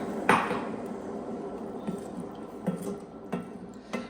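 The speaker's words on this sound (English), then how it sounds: "Pour the water." About three cups of water poured into a pot of cooking plain dal, a soft, steady splashing rush with a few light knocks, quiet and close, with no talk.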